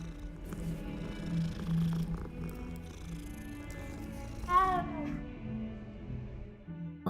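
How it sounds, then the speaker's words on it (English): A cat being petted in Hogwarts Legacy purrs softly in a low, continuous rumble, then lets out a single short meow near the end, quiet and close. "I will sit here and pet this kitty all day."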